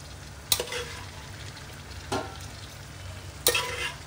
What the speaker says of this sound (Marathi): मी आता हे सगळ्या भाज्या ज्या आपण बॉईल करून घेतल्या ते याच्यामध्ये आता मी मिक्स केलेली आहे छानपैकी